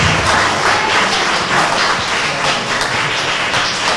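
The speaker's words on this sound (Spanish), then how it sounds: "Un fuerte aplauso para él, por favor." Steady applause from a crowd, a dense patter of clapping that holds at an even level throughout.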